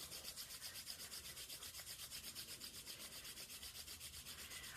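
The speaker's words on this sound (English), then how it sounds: "Rub your palms together." Palms rubbing briskly together in a steady back-and-forth rhythm, a soft close-up friction swish repeating evenly throughout, with no talking, during a calm office yoga eye-relaxation exercise.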